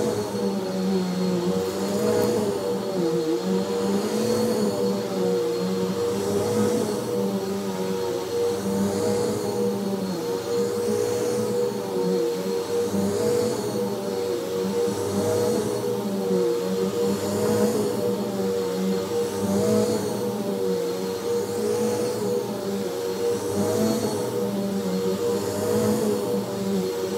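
A Bissell CleanView vacuum cleaner runs on carpet with a loud, steady motor drone that holds an even whine for the whole stretch, with no talk over it.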